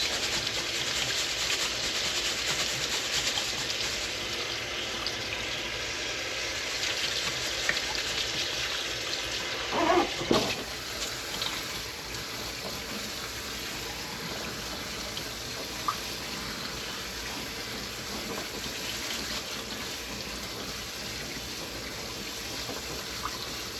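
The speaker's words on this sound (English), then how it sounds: "Clean your rice, clean your rice." Rice rinsed under a running kitchen tap gives a steady, continuous rush of water with a brief burst of splashing and clattering near the middle, close and even throughout.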